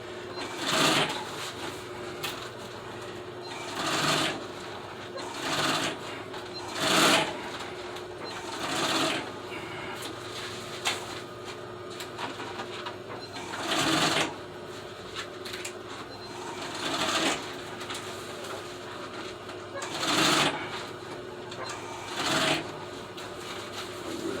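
A sewing machine stitches upholstery for old Suburban seats in repeated bursts of rapid mechanical whirring, each run a second or two long, separated by short pauses and steady background hiss.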